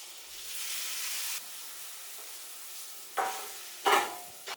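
Tomato and onion sauté in a pan, a soft hiss running under two louder bursts of stirring and sizzle near the end.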